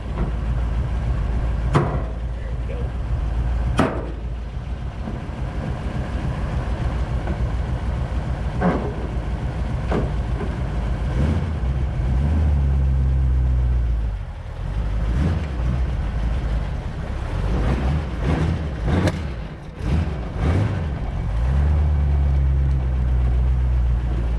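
A 1932 Ford Roadster, on the road for the first time since 1954, drives slowly around the block, its engine running steadily with rising and falling revs and a few sharp clicks and knocks throughout.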